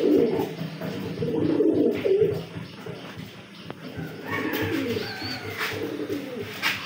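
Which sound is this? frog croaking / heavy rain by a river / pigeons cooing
pigeons cooing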